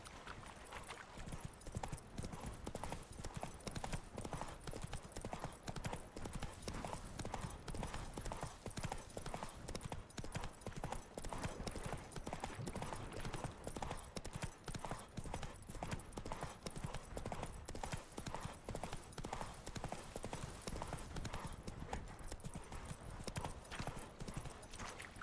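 Roach, the horse in The Witcher 3, clip-clops steadily along in a dense, continuous hoofbeat rhythm that runs the whole stretch at an even, fairly loud level, with a brief whinny-like tone.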